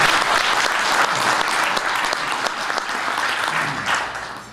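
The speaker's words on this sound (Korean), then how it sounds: "우리 김 교수님이어서 박수 한번 치자." A forum audience claps for a professor, a close, lively burst of applause with individual claps standing out, gradually tapering off.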